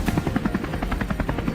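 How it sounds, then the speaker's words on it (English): Helicopter flying low over a field during a wild boar chase in cold weather, rapid rhythmic rotor thumping steady and close throughout. "We quickly maneuvered the helicopter into position, ready for an intense sweep."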